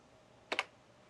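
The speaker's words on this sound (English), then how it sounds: "I'm able to go and type in JTech Digital" A brief double burst of keystrokes on a laptop keyboard, typed remotely through a 4K HDMI KVM extender, two quick clicks close together in an otherwise quiet room.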